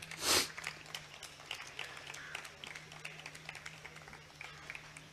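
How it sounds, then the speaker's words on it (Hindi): An audience at a literary session applauds as Dr Sumita Misra is welcomed to the stage: one loud burst at the start, then scattered, fainter claps and crowd shuffling over a steady low hum. "वो स्टेज पर आएँ और ज़ोरदार तालियों से उनका खैर मकदम किया जाए"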